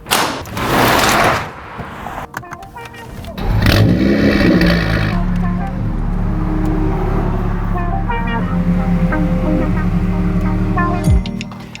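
A BMW F30 335 being driven into a garage: the engine turns over after some handling noise, then runs as a steady, loud hum with brief chirps.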